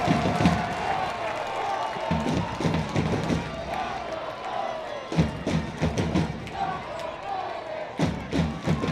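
Stadium crowd at a Chattanooga FC versus Huntsville City FC soccer match roars and cheers as the goalkeeper fires them up, a sustained broad swell with thumps and claps, under a radio commentator's voice.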